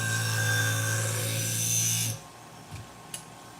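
Sewing scissors being sharpened, a steady whirring abrasive grind that stops abruptly partway, followed by a couple of faint clicks and taps.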